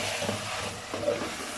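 Chillies, cumin, garam masala and dried coriander sizzle in a pan for Hyderabadi chicken biryani, giving off a steady, soft, even hiss with no pauses.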